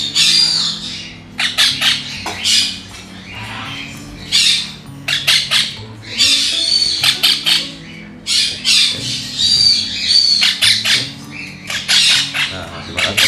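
Small hook-billed parrots squawk loudly and repeatedly while being hand-fed with a syringe, bursts of harsh calls coming in rapid clusters with brief pauses, close to the listener and with no voices over them.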